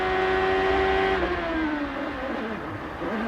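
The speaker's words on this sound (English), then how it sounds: "Hear the engine stop when the rear wheels lock." Engine of a Champ Car open-wheel race car at the 2003 Cleveland round, a loud sustained high-pitched whine that drops in pitch and fades toward a stop as the rear wheels lock under late braking, with no talk.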